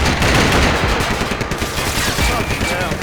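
Dense, continuous gunfire rattles through a Max Payne 3 firefight, loud and sustained with overlapping bursts and impacts and no clear break.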